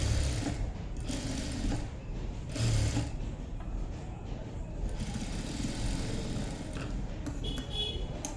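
A sewing machine runs steadily while stitching cloth, a continuous mechanical whir with ratcheting rhythm and slight bursts, close and moderately loud, with no talk.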